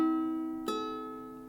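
Ukulele in high G tuning with Aquila strings: a soft, bright strum ringing out and decaying, followed by a second light strum that sustains and fades, close and quiet with no talk.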